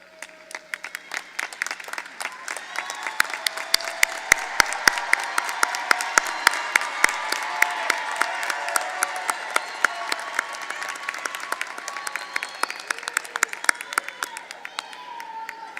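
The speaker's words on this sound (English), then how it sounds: "give them a round of applause" Commencement audience at a college arts and sciences graduation breaks into sustained applause, dense clapping swelling steadily and holding loud for the full stretch before easing slightly at the end.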